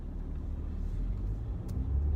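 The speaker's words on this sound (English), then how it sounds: "Cars everywhere." Street traffic rumbles past with a low, steady drone of car engines and tyres, fairly faint and distant, a vehicle seeming to pass nearby toward the end.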